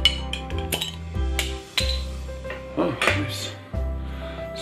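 A 9% ABV AleSmith beer bottle from San Diego is cracked open at close range, with sharp clinks and clicks of cap and glass amid a steady low hum.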